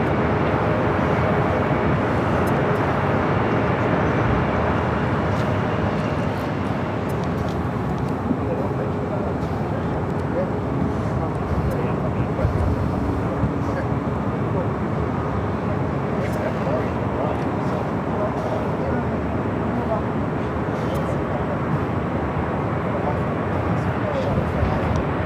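A Southwest Airlines Boeing 737-700 arriving at LAX gives a long, steady jet roar at moderate distance, a broad rumble holding for about twenty-five seconds, with a voice talking over it.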